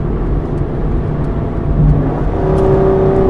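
Aston Martin car accelerating in highway traffic, a steady loud engine drone and road roar that swells midway and holds a rising tonal whine toward the end.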